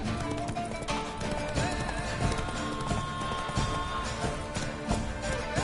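Hoofbeats of Roach, a horse in The Witcher 3: Wild Hunt, Blood and Wine, galloping in a steady clip-clop rhythm under a dense, busy game soundscape with music, loud and continuous throughout.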